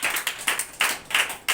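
A church congregation at Sunday worship claps together in brisk, evenly spaced bursts, near and lively, with no voices over it.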